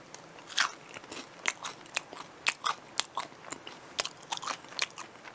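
Crispy curry-flavoured Korean fried chicken is bitten and chewed close to the mic, with loud, repeated crunches and crackles in an uneven rhythm and no talking.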